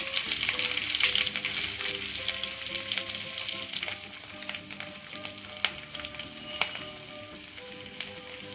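Chopped green chillies and garlic fry in hot oil over mustard seeds for a sweet-and-sour pickle, giving a steady, close sizzle that runs the whole time with a few small pops and crackles.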